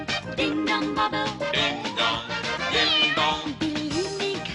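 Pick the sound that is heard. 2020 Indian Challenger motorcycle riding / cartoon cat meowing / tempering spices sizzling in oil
cartoon cat meowing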